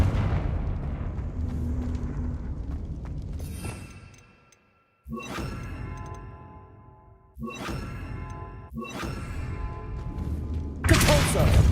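Confringo spell blasts in Hogwarts Legacy, a run of loud bursts with thumps, whooshes and ringing tails, separated by short gaps, ending in a bright crack.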